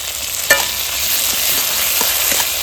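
Chopped tomatoes fry with browned onion and ginger-garlic paste for an egg and masoor dal dish, giving a steady close sizzle with a sharp utensil knock early on and a few soft stirring scrapes.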